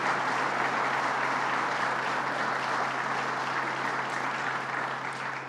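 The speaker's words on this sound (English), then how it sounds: "Let's give him a round of applause, Howard Zemsky." Steady, sustained applause from an audience at a political announcement event, a dense even clapping that continues throughout and fades slightly at the end.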